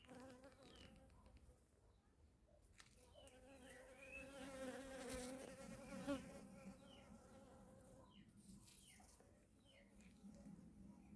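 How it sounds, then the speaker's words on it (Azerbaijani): Honeybees buzz steadily around nectar-rich Caesalpinia flowers at dusk, a dense, close, continuous hum that swells in the middle, with no talk over it. "Arıların səsi."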